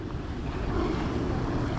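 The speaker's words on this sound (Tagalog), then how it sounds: "Ari-ari ang dagat, agoy." Sea waves wash onto a Gold Coast beach in a steady, close roar, mixed with wind buffeting the microphone, with no voices.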